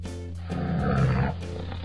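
A toy tiger's sound effect gives a single drawn-out growling roar, loud and close, rising in the middle of the clip and then fading back to a low hum, with no talk.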